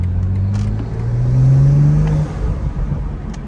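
A 2020 BMW M340i xDrive engine revs up loud and close from inside, its note rising and holding before dropping off, with faint crackling exhaust pops as it settles.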